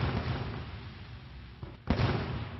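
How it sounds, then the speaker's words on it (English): A fireworks sound effect plays during a clinical engineering association annual meeting: rumbling booming bursts, a sharp cutoff, then a fresh loud burst, fairly distant and muffled. "Make some noise, some firework."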